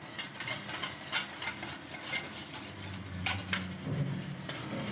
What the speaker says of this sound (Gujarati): સતત આને 2 થી 3 મિનિટ એકદમ આવી રીતે હલાવતા જ રહેવાનું છે.